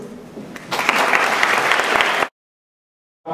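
Audience applause welcoming a speaker at a talk: a soft clatter builds into full, steady clapping from a large crowd that carries on for about a second and a half, then stops dead.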